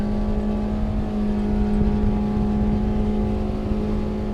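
Yamaha F115 four-stroke outboard on a Quintrex 530 Territory Legend boat revs steadily on the water, a loud continuous engine drone with a strong tonal hum and slight rise and fall in pitch.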